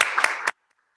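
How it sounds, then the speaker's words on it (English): Clapping from a board meeting audience honoring a presenter, a half-second burst of dense hand claps with a few sharp peaks that cuts off abruptly into silence. "let's give him a big round of applause"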